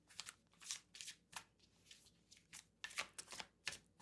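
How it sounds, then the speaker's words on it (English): Tarot cards being shuffled by hand in quick bursts of crisp riffling and slapping, close and soft, repeated about a dozen times at an unhurried pace with no talk. "I'm not a fast shuffler"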